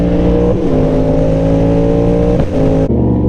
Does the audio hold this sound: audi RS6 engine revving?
yes